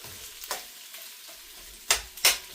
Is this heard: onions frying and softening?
yes